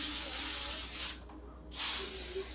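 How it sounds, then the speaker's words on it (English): Cooking spray is aerosol-sprayed onto baking pans in a home kitchen: two close, steady hissing bursts separated by a brief pause. "I need to spray my pans because I don't want that to stick to them."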